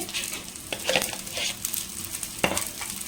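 An evening snack fries in ghee over a high flame, a steady loud sizzle with occasional scraping stirs of a spoon in the pan.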